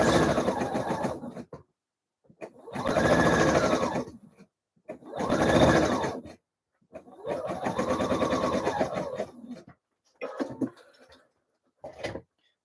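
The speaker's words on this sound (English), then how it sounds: "run a line of gathering stitches all the way around." A sewing machine runs gathering stitches on a blouse, whirring in several close bursts of a few seconds each separated by silences, then shorter stuttering runs at the end.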